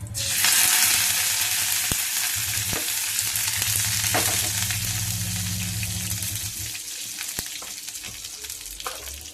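Steady hissing sizzle of fresh curry leaves dropped into hot oil, loud and close, with a few sharp crackles and pops and no talking.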